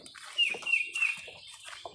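A chicken clucks softly a few times in short, irregular bursts, fairly close, with light background noise.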